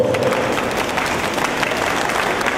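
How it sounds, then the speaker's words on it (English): Dense audience applause at a tourism promotion event in Toronto, steady and loud throughout, a crowd of hands clapping together without pause. "a big round of applause to the Director of Hong Kong Economic and Trade Office in Toronto, Ms. Maureen Seal"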